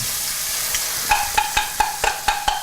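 Sliced garlic sizzling in a hot pan for puttanesca pasta, a constant bright frying hiss with a series of sharp, regular stirring taps on the pan, close and loud, no talk.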